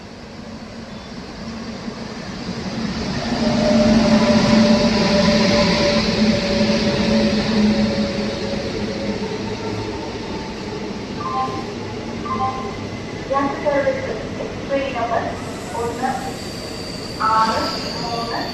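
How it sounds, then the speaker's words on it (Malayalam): Tambaram–Mangaluru Express overtaking and passing through Vadakara railway station, a steady loud rumble of wheels and carriages swelling and then easing, with voices talking over it near the end. "താമ്പരം മംഗളൂരു എക്സ്പ്രസ് വടകര റെയിൽവേ സ്റ്റേഷനിൽ വെച്ച് നമ്മുടെ ട്രെയിനിനെ ഓവർടേക്ക് ചെയ്ത് പോകുന്നതാണ്"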